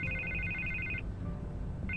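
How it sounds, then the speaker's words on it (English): A phone rings in the Batman Telltale Series game, an electronic trilling ring that sounds for about a second, pauses, then starts again, over a low background hum with no speech. "I can't get the phone to stop ringing."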